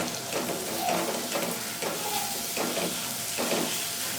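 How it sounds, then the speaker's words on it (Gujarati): Radish pods (mogari) being stirred into onions frying in oil in a pan for a Gujarati shaak, a continuous close sizzle and hiss with soft repeated scraping pulses from the stirring. "મોગરી ઉમેરી આપણે હલાવી લઈએ"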